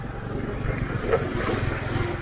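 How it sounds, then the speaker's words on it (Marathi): A swollen stream in the Konkan countryside rushes beneath a small bridge after torrential rain, a steady, full roar of moving water heard nearby with some wind. "जोरदार पाणी आहे व्हाळाला."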